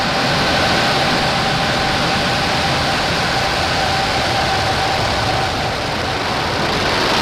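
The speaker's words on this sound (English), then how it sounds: "8, 7, 6, 5, 4, 3, 2, 1. Full power. And liftoff." A SpaceX Falcon 9 rocket lifts off carrying a batch of 53 Starlink satellites, producing a steady, dense, broadband roar that holds at full strength from start to finish with no voices.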